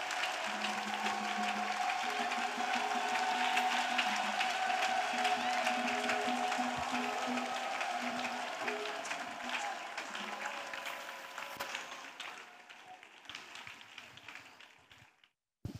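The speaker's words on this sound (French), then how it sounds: "Clap offering for Jesus Christ." A church congregation gives a clap offering, a dense roll of applause from many hands that stays steady for several seconds, then thins out and fades to scattered claps before stopping.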